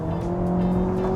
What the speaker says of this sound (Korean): 그렇지만 고속주행을 하면 또 얘기가 달라지겠죠. 좀 더 빠르게 달려보겠습니다.